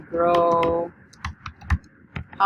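Someone types a web search on a computer keyboard, a quick flurry of clicking keystrokes followed by a few slower, scattered taps, close and clear.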